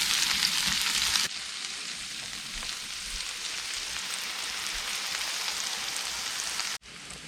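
Onions fry in a hot pan with a dense, even hiss close by, loud and unbroken for several seconds before cutting off abruptly near the end.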